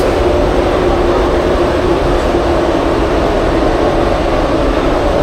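A New York City subway train rumbles steadily and loudly, a constant roar of rolling rail noise with no voices.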